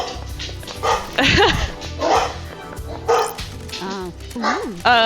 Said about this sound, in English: my dogs say hi, apparently